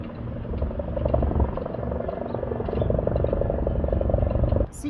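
A security helicopter circles over the White House area in Washington DC, a steady throbbing rotor drone with a faint pulsing chop that holds at an even level before cutting off near the end.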